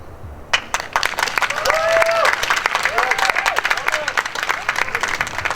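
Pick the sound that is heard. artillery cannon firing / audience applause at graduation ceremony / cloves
audience applause at graduation ceremony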